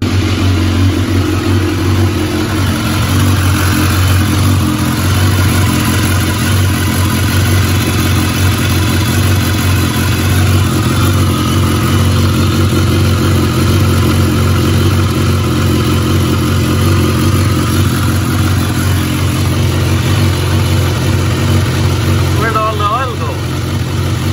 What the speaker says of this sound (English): I'm going to start the bike up now and check for leaks.